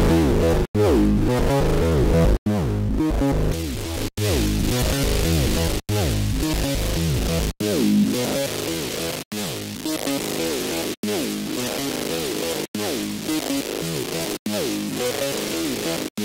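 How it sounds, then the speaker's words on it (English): A synthesized lead tone with added distortion plays a repeating gritty, harmonically dense phrase in evenly spaced bars separated by brief silent gaps, loud and steady throughout with no voice. "Let's add a little bit of distortion to this."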